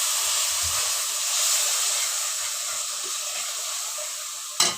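Powdered spice masala sizzles in a pan after a splash of water while cooking a small-fish bhuna, a steady hissing steam with faint stirring, ending in one brief sharp clatter.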